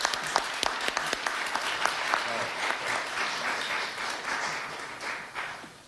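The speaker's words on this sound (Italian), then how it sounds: "Con un applauso, eccolo qua." Audience applause welcoming a violinist to a stage, sharp separate claps at the start quickly swelling into dense, steady clapping that holds for several seconds before tapering.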